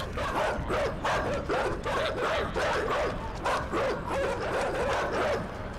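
Several dogs bark and yip continuously in a video game, a close, loud, overlapping chorus of sharp barks with some whining, sustained throughout.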